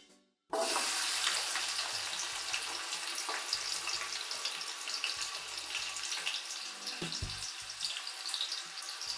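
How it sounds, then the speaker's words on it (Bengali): Chopped onions dropped into hot oil for Kolkata-style chicken biryani, bursting into a loud, steady sizzle that continues close and unbroken, with a faint crackle and spoon stirring underneath. "এবার পেঁয়াজ কুচিগুলো দিয়ে দেব।"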